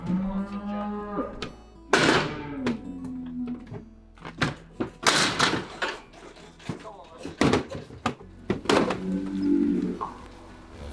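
Shorthorn cattle in a farm shed give several loud, drawn-out moos close by, mixed with thuds and knocks of gates or doors and a voice speaking in between.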